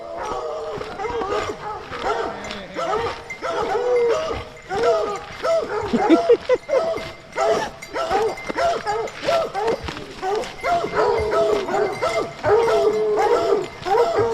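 A pack of hound dogs barks and yips excitedly at a strange dog in the woods, in repeated bursts, close by and loud, with people talking over the commotion.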